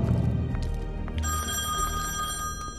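An old-style telephone bell rings in The Wolf Among Us video game, a steady ringing that sets in partway through and continues over low background game ambience.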